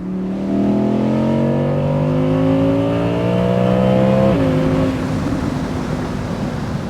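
An Audi R8 V10 Performance Spyder engine revving up, a loud close-up mechanical wail rising steadily in pitch before dropping off abruptly into a lower, settling drone.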